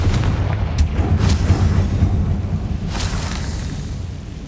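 A Confringo fire spell exploding in Hogwarts Legacy, heard as a deep rumbling boom that sustains and slowly fades, with a few sharper bursts layered over the low roar and no talking.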